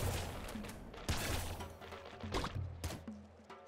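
Y.C weapon from the video game Nuclear Throne (Ultra Mod) firing rapidly and striking targets with metallic hits, in dense overlapping bursts of crackling shots and sharp impacts that keep going with brief lulls.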